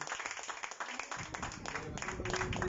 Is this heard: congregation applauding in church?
yes